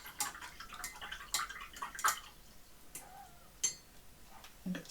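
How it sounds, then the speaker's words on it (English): Paintbrush rinsed in a pot of water, small splashes and taps of the brush against the container coming in scattered quiet bursts, close by with no voices. "Rinse my brush out."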